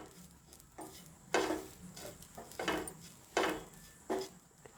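Grated coconut sautés in ghee in a pan, a soft steady sizzle broken by regular scraping stirs of a spoon, about six strokes that come close and clear with no talk.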